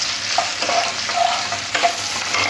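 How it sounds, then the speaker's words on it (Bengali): Onion and capsicum stir-frying in a pan for restaurant-style chilli chicken, a steady close sizzle with soft scraping stirs throughout, no voices. "পেঁয়াজ আর ক্যাপসিকাম যত সময় না নরম হচ্ছে তত সময় একটু ভাজতে হবে।"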